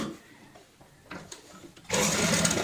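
An electric sewing machine stitching a cushion cover starts after a few soft handling rustles, then runs loud and fast in a continuous rattling whir through the end.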